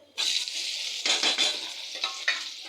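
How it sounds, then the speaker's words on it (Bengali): Onions dropped into hot oil in a wok, giving a steady broadband sizzle that starts abruptly and swells with stirring bursts, fairly close and with no talk. "কড়াইয়ের মধ্যে তেল গরম হয়ে গেছে, এবার আমরা পেঁয়াজগুলো দিয়ে দেব।"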